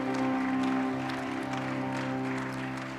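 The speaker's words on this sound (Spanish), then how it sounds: "Dale un fuerte aplauso a nuestro Dios nuevamente." Church congregation applauding after worship, a sustained wash of clapping mixed with lingering held instrumental tones, fading slightly toward the end.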